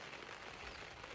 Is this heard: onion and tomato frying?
no